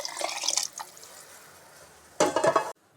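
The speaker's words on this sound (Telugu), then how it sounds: "ఇప్పుడు మనం నీళ్ళు కానీ పోసేసుకుందాం" Water is poured into a pot of rice and mushrooms while cooking mushroom matar pulao. There is soft splashing and trickling at first, then a short, louder gush before it stops abruptly.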